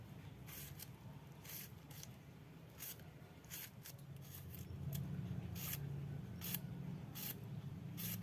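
Cucumber being thinly sliced for a Sundanese reuceuh bonteng dish gives soft, repeated crisp cutting snicks over a faint background hum, close and quiet, with no voices.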